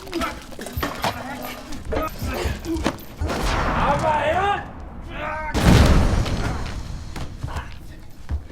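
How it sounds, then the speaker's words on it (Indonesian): Cannon fire in an anime scene, several booming blasts that rise above a dense battle soundscape, with a voice narrating over it. "Tapi tiba-tiba polisi menembaki meriam itu ke arah kapal yang Kawaji sadari"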